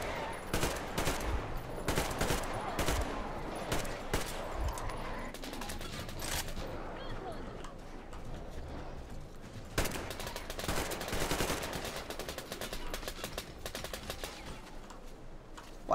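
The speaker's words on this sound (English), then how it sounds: "they're gonna shoot at me" Enemy gunfire aimed at the player in Metro Exodus: rapid cracking shots and bursts, near and loud, that keep up almost without pause, with a voice faintly beneath.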